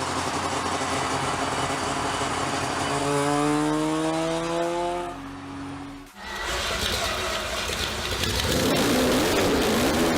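Mazda RX-4 rotary engine revving, its pitch climbing in a series of rising tones before a sharp cut, then returning to a steady, loud running drone.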